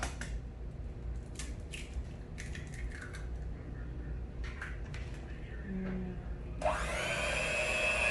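An electric mixer beats homemade cheesecake batter: scattered soft bumps and scrapes, then a loud, steady whirring motor kicks in near the end and runs close by.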